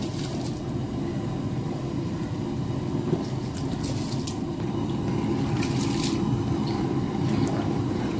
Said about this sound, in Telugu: ఇప్పుడు కడిగి పెట్టుకున్న రైస్ని మరుగుతున్న వాటర్లోకి వేసుకుందాం